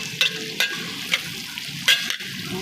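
Buttered tiger prawns frying in a pan, a close steady sizzle punctuated by four sharp metallic scrapes of a stirring utensil.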